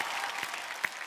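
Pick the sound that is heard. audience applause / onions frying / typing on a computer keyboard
audience applause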